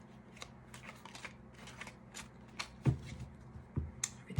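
Soft riffling and light tapping of cards being shuffled, quiet and close, with a few sharper flicks near the end.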